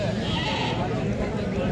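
A goat bleats at a busy goat market while nearby voices keep talking over the crowded, noisy background.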